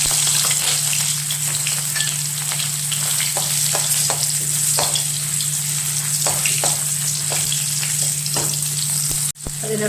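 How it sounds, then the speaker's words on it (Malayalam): Shallots sizzle in the same oil used for frying pappadam, with a dense, loud, steady crackle that runs alone for about ten seconds before a brief break near the end. "ആ എണ്ണയിലേക്ക് തന്നെ ചെറിയ ഉള്ളി ചേർത്ത് കൊടുക്കാം."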